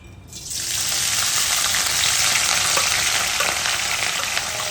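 Garlic fries in 3 to 4 tablespoons of hot oil with a steady, loud sizzle that starts abruptly and hisses on without a break, heard close up.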